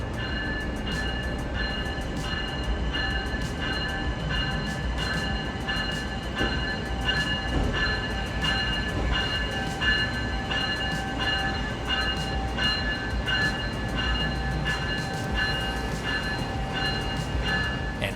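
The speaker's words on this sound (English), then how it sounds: "A pair of headlights appear at the end of the platform and in pulls our train" An Amtrak NextGen Acela high-speed train rumbles steadily into a station platform, wheels clacking in a regular rhythm over a constant roar, loud and close with no talking.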